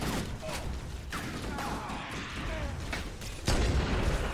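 Enemy gunfire in the shooter game Halo: Combat Evolved, a run of sharp shots and impacts over a noisy battle backdrop, with a heavier burst toward the end.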